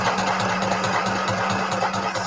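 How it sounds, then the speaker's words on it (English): A sewing machine stitches through paper cards in quick, rapid, even mechanical pulses, running steadily and close throughout with a low motor hum underneath. "I'm just going to sew quickly here."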